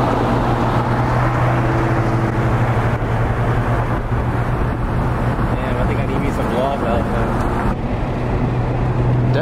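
A Nissan GT-R Nismo fitted with a full titanium exhaust gives a steady low drone that runs throughout, with a person talking over it.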